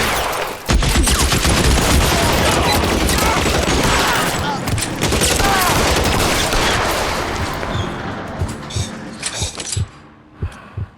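Rapid bursts of gunfire from a shootout in the 1940s Los Angeles crime game LA Noire, loud and dense near-continuous volleys for most of the stretch, thinning into scattered shots toward the end.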